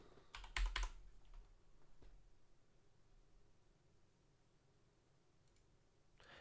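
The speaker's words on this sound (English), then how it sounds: "I can just type it in." Typing on a computer keyboard during live crypto trading, a brief burst of quick clicking keystrokes up close, then faint scattered taps over a quiet room.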